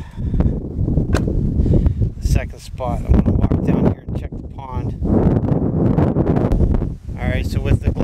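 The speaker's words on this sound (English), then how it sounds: "sorry about the wind you're about to experience." Outdoor wind buffets the microphone by a pond, a loud rumbling blast that gusts continuously beneath someone speaking throughout.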